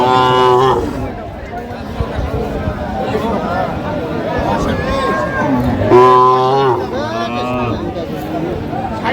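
Several cows and calves moo loudly, long low calls overlapping with a busy crowd of voices chattering nearby at the Aftabganj cattle market in Dinajpur, Bangladesh.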